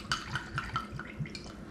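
Pisco poured into a mixing container for a Pisco Sour, a short run of light liquid glugs and drips in a quick uneven rhythm, close and fairly quiet with no talking.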